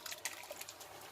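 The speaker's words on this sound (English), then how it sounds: "And now we're going to tip our juices into there." Cooking juices are tipped from a pan into a spaghetti pan, giving a quiet, uneven liquid trickle with soft splashy drips throughout.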